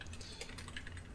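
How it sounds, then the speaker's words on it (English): Rapid keyboard typing, steady clicking keystrokes close by and fairly quiet, with no voices. "Typing this down so I don't forget it."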